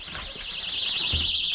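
An alarm goes off as a steady, warbling high electronic tone that holds loud and unbroken throughout, with a faint low thump near the end.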